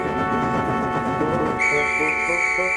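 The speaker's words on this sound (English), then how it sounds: "The guard, safe in his van, blew his whistle." Guard blowing a whistle from a railway guard's van, a single sustained shrill tone that starts abruptly partway through and holds steady over a background of rumbling railway noise, clear and fairly close.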